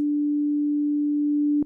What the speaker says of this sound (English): by default, operator loads with a sine wave